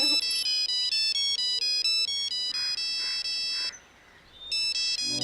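A mobile phone ringtone plays a loud, bright electronic melody of repeating tones, breaks off briefly near the end, then starts up again.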